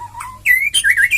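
A white-rumped shama (murai batu) sings a short, loud, close phrase of rising and falling whistled notes and chirps, heard alone.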